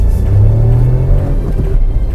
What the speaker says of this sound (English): Now I'm needing some acceleration because I'm turning around here.